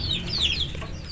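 A free-range village chicken gives a quick, faint run of clucks inside a small coop, close by and over low background noise.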